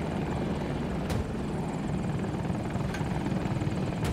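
Helicopter flying in Battlefield 2042, a steady loud rotor and engine drone filling the scene throughout with no pauses, heard close and alone without talk.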